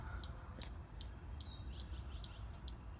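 A mother bird chirps near a cigar box birdhouse in a series of short, sharp chirps repeated at a steady rhythm over low background rumble.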